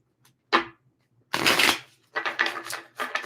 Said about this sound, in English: Well, let's do two more shuffles.